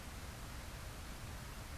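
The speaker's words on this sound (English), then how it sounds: "30 minutes down and it's raining" Steady, even hiss of rain falling in the Minecraft video game, a soft continuous wash of noise with no breaks, gentle and fairly quiet, with no voices over it.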